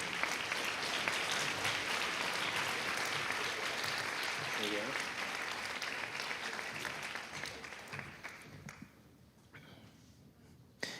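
Loud, sustained applause from a concert audience honoring outstanding high school orchestra students at a pop hits orchestra concert, steady for most of the stretch before thinning out and fading near the end.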